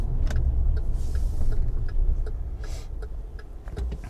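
A car drives on a road, recorded from inside with a GoPro, with a steady engine and road rumble, and the engine note rises and falls briefly as the car brakes and accelerates. Faint ticks sound throughout and there is no talk.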